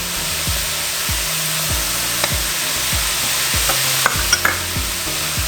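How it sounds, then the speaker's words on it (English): Chopped onion and garlic are stirred with two pounds of meat in a hot pan, a close, rhythmic series of scraping strokes about every half second over a continuous sizzle, with a few sharper clicks near the end. "let's mix that all in."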